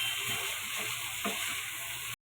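Tomato and onion fry in a pan for tomato pasta, an even, fairly quiet sizzle with a couple of soft stirring scrapes, then a sudden cutoff.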